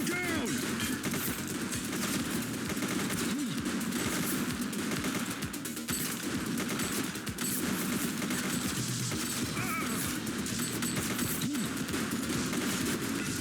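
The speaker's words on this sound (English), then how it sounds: "She's shooting!" Dense gunfire in a police video game, rapid overlapping shots and bursts crackling continuously and loudly across the whole stretch, thick and layered like a firefight, with shouting voices buried in the mix.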